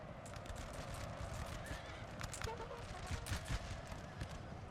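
Cavalry horses charging in Napoleon: Total War, a dense drumming of many hooves with occasional whinnies, rumbling steadily as a distant battle din at low level with no clear speech.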